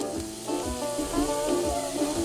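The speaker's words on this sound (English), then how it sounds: "we're going to put our onions and pepper back here." Onions and peppers sizzle steadily in a pan over heat just below medium, a close, continuous crackle with soft stirring scrapes and no talk.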